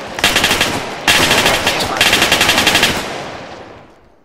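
Loud rapid automatic gunfire from video game combat training, bursts of fast shots with a brief break, then a longer burst that trails off into echo.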